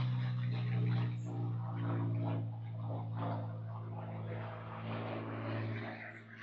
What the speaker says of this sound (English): let me just wait for this plane to go overhead.